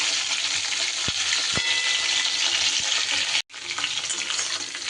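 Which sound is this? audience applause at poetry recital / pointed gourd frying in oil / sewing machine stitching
pointed gourd frying in oil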